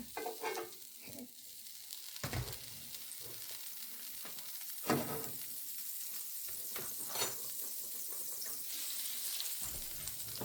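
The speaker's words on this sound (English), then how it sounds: "we're going to add a little butter" Butter sizzles and crackles in a pan on the stove, a steady close frying hiss broken by occasional scraping knocks as it is moved around the pan, with no talking.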